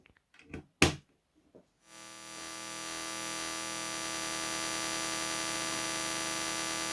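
A few sharp knocks give way to a steady, buzzing wall of distorted electronic noise from Serge modular synth feedback sent through distortion, swelling and then holding, harsh and sustained.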